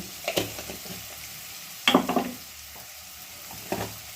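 Onions fry in a pan for a spicy Palnadu-style brinjal dish, a quiet sizzle punctuated by a few close scraping stirs.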